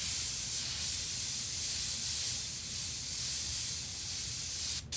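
Airbrush spraying paint in steady double strokes over lettering, a constant airy hiss held close and unbroken that cuts off abruptly right at the end.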